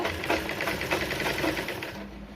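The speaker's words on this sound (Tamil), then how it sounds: "ஒரு 1/4 இன்ச்சுக்கு கொஞ்சம் மேலே வச்சு ஒரு தையல் போடுங்க." A sewing machine stitches a blouse waist seam in a steady, fast run of close, even needle strokes that continue without pause from start to end, with no voices.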